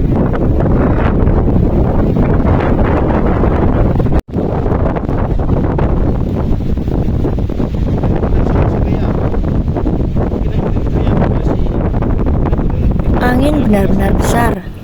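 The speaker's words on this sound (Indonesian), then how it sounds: "Angin benar-benar besar." Powerful gusts roar across a mountain trail on Mount Merbabu, a dense, loud, continuous buffeting of wind against the microphone that hardly lets up, with a brief cut partway and faint voices near the end.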